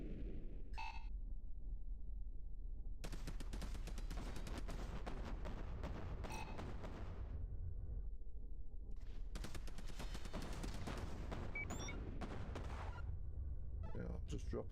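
Missiles explode in a space combat video game, a game called A-Spec First Assault, as dense bursts of crackling, rumbling blasts in two long volleys. The explosions are loud and continuous, with brief quieter gaps between them.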